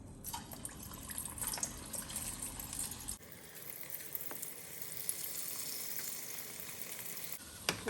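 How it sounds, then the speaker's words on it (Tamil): Beetroot-leaf pakora batter fries in hot oil, giving a continuous crackling sizzle that drops to a softer, finer fizz midway and then swells again. The cooking sound is fairly quiet and close, with no talking. "எண்ணெய் காஞ்ச உடனே இதை எடுத்து கொஞ்சம் கொஞ்சமாக குட்டி குட்டியாக போடலாம்."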